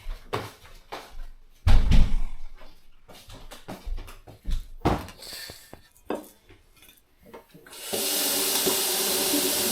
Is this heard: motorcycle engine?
no